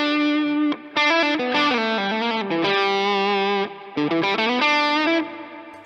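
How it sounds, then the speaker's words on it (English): Harley Benton CST-24T P90 electric guitar played through a distorted effects chain with heavy reverb, sustained chords and bending notes ringing out loud and close with long washy tails between phrases. "That's maybe too much reverb."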